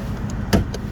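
Hood release on a 2020 Ford Mustang GT with the engine running, heard as one sharp close mechanical clunk over a steady low idle rumble, with a couple of faint clicks around it.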